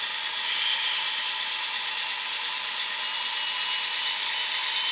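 A Rapido LRC model train motor gives a steady, high-pitched electric whine with a faint mechanical buzz, continuous and fairly close, with no voices.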